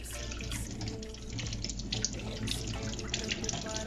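Water pours and trickles steadily as soaked dried roselle (mutete) leaves are drained in a kitchen sink, a continuous close splashing stream with small drips, no voices.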